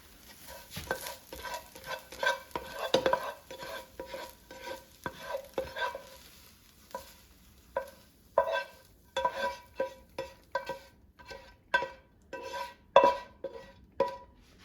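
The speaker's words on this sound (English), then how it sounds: "So I'm going to turn off the heat, and now remove it from the frying pan." Repeated stirring and scraping of riced hearts of palm in a frying pan with a soft sizzle underneath, the spoon strokes coming in a steady irregular rhythm, close up.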